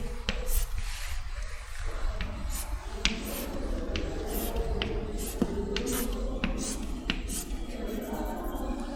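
Marker or chalk writing on a board during an organic chemistry lecture, close repeated scratchy strokes and taps over faint room noise, with no talking.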